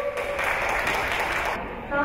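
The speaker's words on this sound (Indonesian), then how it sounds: "kita beri tepuk tangan dulu kepada" A workshop audience at an Indonesian election-literacy event applauds a speaker being welcomed, a dense, continuous clatter of many hands with a voice speaking over it.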